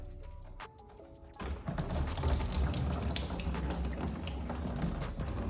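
Coolant gushing out of a disconnected lower auxiliary radiator hose on a BMW F-series car, a sudden steady splashing pour that starts after a few faint clicks and keeps flowing close by.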